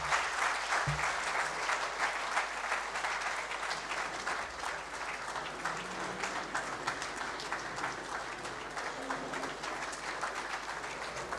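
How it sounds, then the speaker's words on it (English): Audience applause for keynote speaker Aliko Dangote at an international trade seminar: dense, even clapping from a large crowd, moderately distant and steady for over ten seconds, with no talk. "let's continue with a round of applause for our keynote speaker, Alhaji Aliko Dangote"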